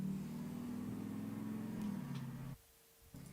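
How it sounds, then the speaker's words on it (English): A car passing by outside, a loud steady engine drone and tyre roar that holds and then cuts off abruptly, heard from indoors with no talk. "There was a car going by. It was kind of loud."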